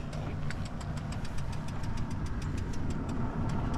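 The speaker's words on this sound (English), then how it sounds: "we're going to let this car go by first" A car's engine rumbles nearby on a road, a steady low drone with a fast, even ticking running through it from start to finish.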